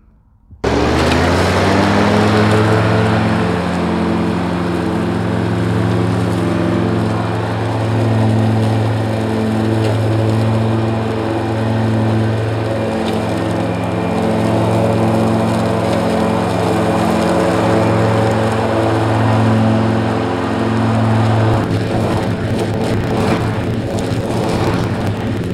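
Grasshopper zero-turn lawn mower engine running at a steady, loud drone close by, its hum holding constant for about twenty seconds before shifting slightly near the end.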